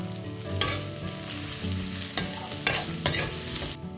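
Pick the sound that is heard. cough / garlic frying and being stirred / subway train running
garlic frying and being stirred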